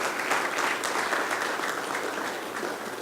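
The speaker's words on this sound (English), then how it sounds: "I'd like to give you guys a round of applause" A room at an OKC Energy FC press conference applauds the club's advisory board as its members stand. Even, continuous clapping from a sizeable group is heard alone, at moderate loudness.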